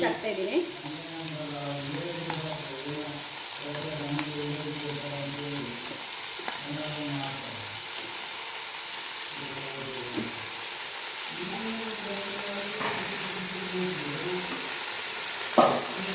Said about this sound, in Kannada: ನೋಡಿ ಆನಿಯನ್ ಫ್ರೈ ಆಗ್ತಾಯಿದೆ ಇವಾಗ ಜಿಂಜರ್ ಗಾರ್ಲಿಕ್ ಪೇಸ್ಟ್ ಹಾಕ್ತಿದ್ದಾರೆ